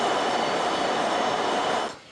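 A Chinese high-speed passenger train runs at speed, giving a steady broadband rushing roar that stays constant before dropping away sharply at the very end.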